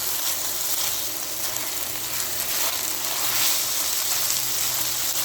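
Soaked rice sautéing in a spoonful of ghee and a spoonful of oil, a steady close sizzle and crackle that holds evenly throughout with no talking.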